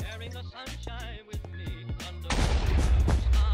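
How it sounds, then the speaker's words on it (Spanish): TNT blocks explode in a Minecraft Bedwars match, with several sharp booming blasts in quick succession that build into a loud, dense rumble at the end, mixed with game sounds. "No, pues se rompe de dos TNTs. Dos explosiones se rompe."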